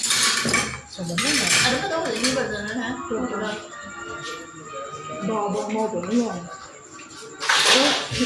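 Cutlery, dishes and pots clink and clatter continuously while dishes are washed in a home kitchen after an iftar party, with someone talking over the sounds and bright scrapes and knocks standing out near the start and end.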